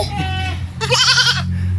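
A goat bleats once, loud and close, a wavering nasal cry lasting about half a second, with people speaking just before it on a farm where malunggay leaves are being harvested.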